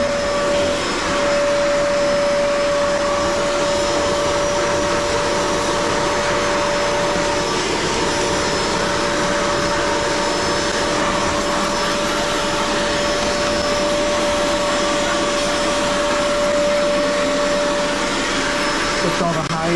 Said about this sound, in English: I think these Auric vacuums are the best.